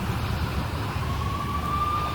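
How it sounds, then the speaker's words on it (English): Police sirens wail steadily in the Max Payne video game, blending into a dense, continuous roar of city noise, with a high steady tone emerging and holding toward the end. "I could hear the sirens. Their wail was a crescendo."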